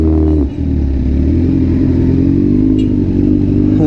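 A 1000cc big bike motorcycle engine revving loudly up close, a strong steady roar with a brief dip and recovery early on, continuing without talk.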